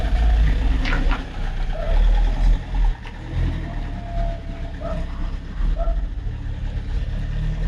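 A car engine idles and rumbles at close range as the vehicle shuffles slowly into a body shop yard, a steady low drone with a few faint squeaks and clunks over it.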